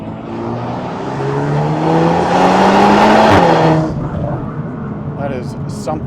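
A VW Golf R Mk8 in race mode accelerates hard, its engine rising in pitch through the gears as a loud, close roar, then easing off with a short lull and faint chirps at the end.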